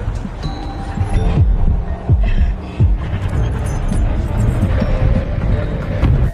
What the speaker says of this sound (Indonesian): merasakan ada suara detak jantung yang semakin kencang